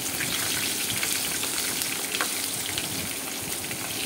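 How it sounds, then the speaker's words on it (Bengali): Pieces of pointed gourd (potol) fry in hot oil, a close, continuous sizzle scattered with quick crackles and light stirring, with no talking. "এবার আমি পটলগুলোকে একটু হালকা করে ভাজা ভাজা করে নেব"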